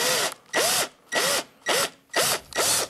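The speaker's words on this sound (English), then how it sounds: "I'm gonna use a 1/2-inch Forstner bit." A 1/2-inch Forstner bit drilling into wood, six loud, even bursts of whirring bite separated by brief pauses, close and alone.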